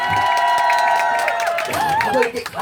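A crowd at an outdoor nanta drumming performance in Gangneung cheers and claps together, a dense roar of voices and applause that swells and then tapers near the end.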